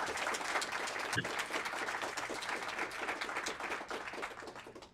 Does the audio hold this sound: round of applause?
yes